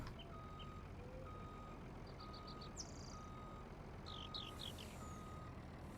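Tractor backing up a trailer in Farming Simulator 19, with a faint, evenly spaced series of reversing beeps repeating over a low engine rumble, plus a few brief higher chirps.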